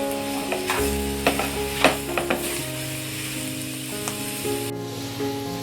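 Jackfruit bhaji, the Konkan-style phoos bhaji, stir-fried in a pan, with a steady sizzle and scattered spatula scrapes and clicks under sustained tonal background sounds.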